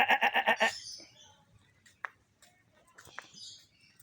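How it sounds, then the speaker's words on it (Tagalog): A British Alpine goat gives a loud, wavering bleat at the start, followed by quieter scattered chirps and clicks from birds and other farm animals nearby. "Pangalan nito ay British Alpine Goat."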